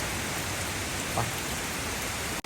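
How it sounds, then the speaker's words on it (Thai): Heavy rain pours down steadily in a rural village, a dense, even hiss of drops hitting surfaces close by, with no talking heard above the downpour. "ตอนนี้ฝนตกแรงขึ้นมากๆ"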